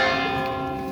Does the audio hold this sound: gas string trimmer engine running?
no